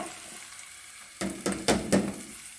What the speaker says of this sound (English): I'm going to put in the saltfish